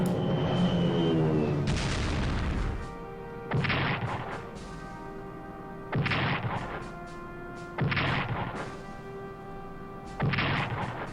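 Bombing attack in the Strategic Command WWII strategy game, a series of four or five heavy booming blasts with ringing tails, spaced a couple of seconds apart after an opening whoosh.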